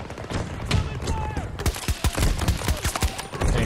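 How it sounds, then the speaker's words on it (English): Battlefield 2042 gunfire: rapid, loud bursts of shots crack in quick succession, a dense volley of sharp reports with heavier thumps mixed in. "Standing in the open, taking shots at a dude."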